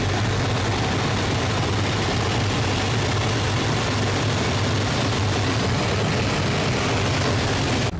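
A Hawker Hurricane's Rolls-Royce Merlin engine roars steadily and loudly through aerobatic flight, a continuous propeller-driven drone with no pauses.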